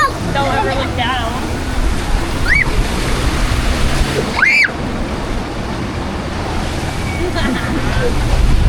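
Rushing water and splashing on the Disaster Canyon river rapids ride at Elitch Gardens, a steady loud wash with wind buffeting the microphone and faint voices of riders underneath.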